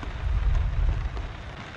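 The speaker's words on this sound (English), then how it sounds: "So we've been having this rain for maybe about 3 or 4 days now" Steady rain pours down during a storm at a bushcraft campsite in Cebu, Philippines, a dense, continuous wash of drops that stays loud and close for the whole stretch with no voices.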